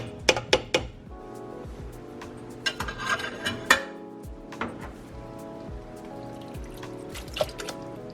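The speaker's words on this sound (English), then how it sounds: "So now I'm pouring in my diced tomatoes." Diced tomatoes from cans pour into a pot of homemade chilli, a wet splattering trickle with a few sharp clinks against the pot, close and fairly quiet, without speech.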